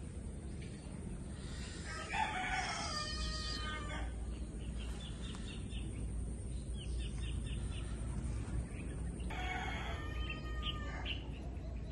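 Roosters crow in bursts over a steady noisy background at night, with other chickens faintly clucking, two distinct crows standing out near the start and again toward the end.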